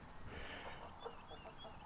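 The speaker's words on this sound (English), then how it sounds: "Just got to clean the chickens out today." Chickens cluck softly in a farmyard coop on a Portugal farm, scattered low calls over a steady background hum, faint and continuous with no talking.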